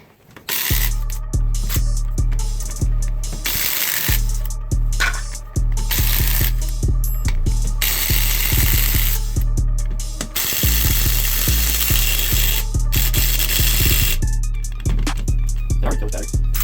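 Rapid ratchet clicking while removing wheel lug nuts on a truck, in repeated bursts with brief pauses between nuts, close and fairly loud against a steady low hum.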